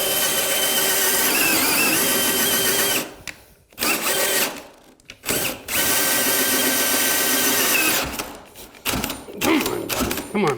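Power drill running an auger bit in reverse to clear wood chips while drilling subfloor, loud continuous whirring in long bursts with short stops and restarts, close up.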